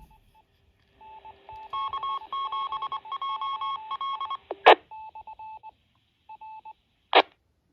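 A TIDRadio TD-H6 handheld VHF/UHF ham transceiver keys a repeater, sending a rapid series of clear DTMF tone bursts, followed by two sharp clicks and brief beeps, close and distinct.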